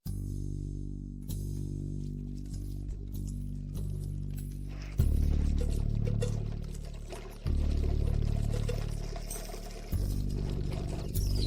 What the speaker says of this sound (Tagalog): Umihi muna.